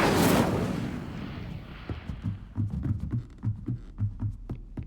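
The Incendio fire spell cast in Hogwarts Legacy, a loud burst of flame at the start that fades into a quieter crackling tail with a string of soft, rhythmic thuds.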